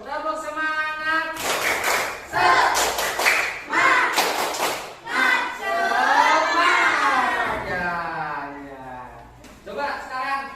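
A school class chants the tepuk semangat routine together, with bursts of group hand claps punctuating loud, rhythmic voices in a classroom.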